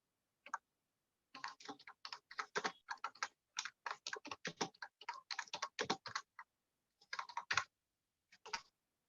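Rapid clicking keystrokes on a computer keyboard, typed in quick bursts with short pauses between, close and crisp against a silent background.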